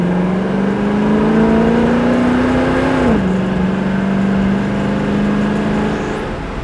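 A 1968 Chevrolet Camaro SS with electronic fuel injection pulls away from a light, its engine droning and rising steadily before easing back as a shift drops the pitch, heard continuously from inside the car.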